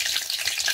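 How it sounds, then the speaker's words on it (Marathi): Garlic sizzles in hot oil as tempering for a Konkan-style crab curry, a steady bright hissing crackle, close and moderately loud. "लसणीचा आवाज येते"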